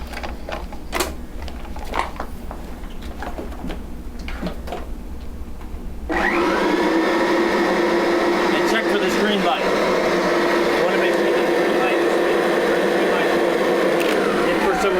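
A Kirby Generation or Sentria upright vacuum cleaner switches on after a new belt is fitted, a steady loud motor whine starting partway through and running continuously, with quieter handling noises before it.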